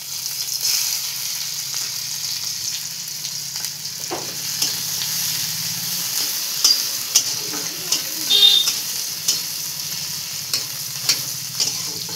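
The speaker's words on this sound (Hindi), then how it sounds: "तापरे मु काटिकी रखिथिबा प्याज पकेई दबा।" Chopped onions sizzle and fry in a pan on a gas stove, a steady close hiss with occasional stirring clicks and scrapes, no talking.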